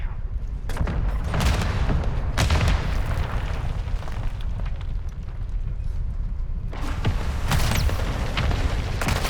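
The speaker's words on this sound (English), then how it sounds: "Hostile mortar strike near your position" Mortar strike explosions in Call of Duty: Modern Warfare II rumble as heavy, repeated booms, sitting close and loud within a dense battlefield din with scattered sharp blasts throughout.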